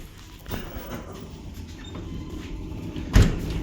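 A door being shut inside the cab of a giant electric coal mining shovel: faint rumbling room noise, then a single sharp thud near the end.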